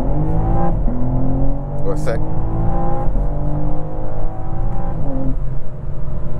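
A 2024 BMW M4 xDrive Competition's engine pulls hard under acceleration in third gear, its harmonic tone climbing steadily from inside the cabin while someone talks over it.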